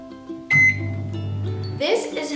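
A microwave oven heats a mug cake, giving a steady low hum after a loud start, then a few clicks and beeps near the end.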